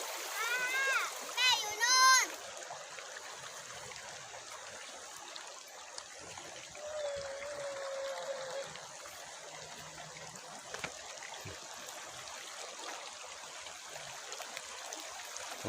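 River water flows and trickles steadily in mid-stream at Ban Sapan, Bo Kluea, a constant wash with light splashes beneath it. Near the start a voice is heard, and talk comes through faintly now and then.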